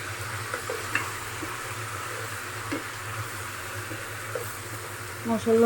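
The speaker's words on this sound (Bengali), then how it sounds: "সাথে মাংসটা দু তিন মিনিট কষাতে হবে" Chicken with spices sautéing in a pan gives a soft, continuous sizzle with occasional light stirring scrapes and small clicks, faint and close, ending with a brief louder clatter.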